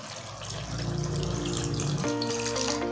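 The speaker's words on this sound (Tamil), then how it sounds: "மிக்ஸ் பண்ணிவிட்டு கொஞ்சமாக தண்ணி விட்டு" Water pours and gushes into a metal pot of mutton masala, rising in pitch as it fills, brief and steady with no voices.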